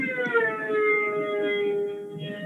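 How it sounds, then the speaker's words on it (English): A drill machine whines with a steady, high tonal drone that holds a sustained pitch, gliding slightly down and back, continuous and fairly close. "It's not ambulance. It's a drill machine."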